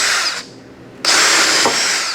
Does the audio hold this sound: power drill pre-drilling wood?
yes